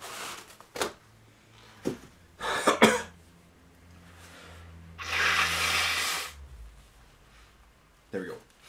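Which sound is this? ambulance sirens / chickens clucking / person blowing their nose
person blowing their nose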